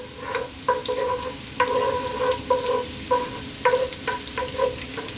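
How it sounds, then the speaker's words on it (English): Chopped garlic sizzles steadily in hot oil in a large pot, with a soft continuous frying hiss broken by repeated sharp stirring scrapes at close range, no voices. "We're first going to drop in our bawang or garlic. Just let that do its thing for a few seconds."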